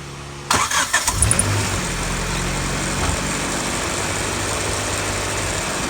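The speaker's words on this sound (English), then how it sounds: "Now we start it up, check the fuel pressure" A turbocharged Honda D16Y7 engine cranks briefly with a few sputtering bursts, then catches and settles into a steady, fairly loud idle that carries on to the end without anyone speaking.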